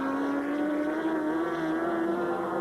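A green Kawasaki racing motorcycle at the 1993 Sunflower Trophy passes at speed on the fastest part of the circuit, a loud, steady high engine drone that rises slightly in pitch throughout.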